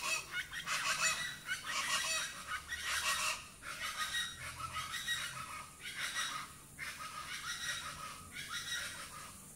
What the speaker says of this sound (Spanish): Miren las aves que andan allí.